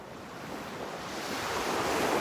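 Ocean surf washing onto a Gulf beach at Delnor-Wiggins, a broad continuous roar of waves building louder toward the end, with some wind buffeting the microphone and no voices.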